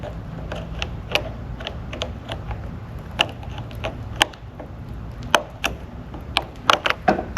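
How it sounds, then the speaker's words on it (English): Needle nose pliers squeezing a chain connector clip onto the drive chain of a Revolution reel mower during a clutch sprocket and pad replacement: a series of sharp metallic clicks and creaks over a low steady background, irregular and close. "I grab my needle nose pliers, and I squish it on there."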